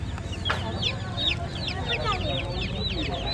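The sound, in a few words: chicks peeping at a market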